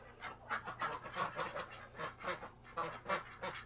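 A flock of domestic ducks quacking and honking indoors in a shelter on a cold day, a busy overlapping stream of calls from several birds at close to moderate distance.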